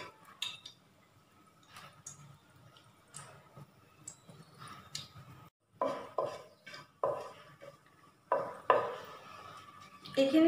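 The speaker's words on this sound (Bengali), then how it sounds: "এতিয়া মই ইয়াত তেজপাত দুটামান দিলোঁ, ডালচেনি আৰু লংখিনিও দি দিলোঁ।" Bay leaves, cinnamon and cloves dropped into hot oil in a pan for chicken stew, giving close clinks of utensil on pan and soft sizzling bursts, louder toward the end.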